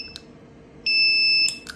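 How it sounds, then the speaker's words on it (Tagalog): A car wash vending machine beeps when its timer button is pressed: a short electronic beep, then a longer sustained tone, followed by a couple of quick beeps, clear and close in a quiet room. "tapos hindi ginagamit, nagbibip siyang ganyan. Nagbibip siya."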